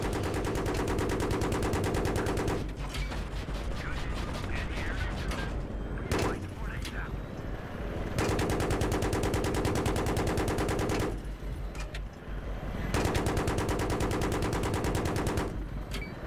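Sustained gunfire in Battlefield 3: rapid automatic bursts from vehicle cannons and rifles roll almost continuously with short lulls, loud and close, while players talk over the combat.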